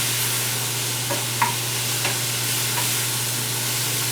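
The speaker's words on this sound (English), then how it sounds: "I'm going to go ahead and saute it in my grapeseed oil." Vegetables sauté in grapeseed oil, giving a continuous hissing sizzle with a few light stirring scrapes, heard alone without talk.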